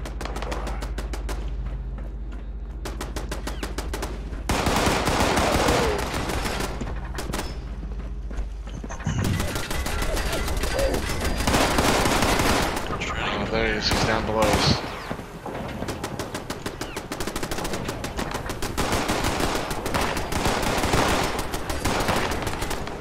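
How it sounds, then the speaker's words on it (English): Automated turrets firing in Fallout 76, a dense run of sharp gunshot bursts and rapid cracks mixed with mechanical clatter and game noise, loud and continuous, with some speech. "turrets are shooting over here."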